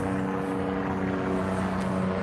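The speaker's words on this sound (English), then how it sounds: "The helicopter's coming." A helicopter approaches at night over a homeless encampment, a steady droning engine hum with a low rotor throb that holds at a fairly loud level throughout.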